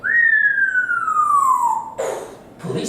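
An African grey parrot whistles a clear police siren imitation, one long gliding tone falling slowly in pitch, loud and close, followed by two brief bursts of squawky sound.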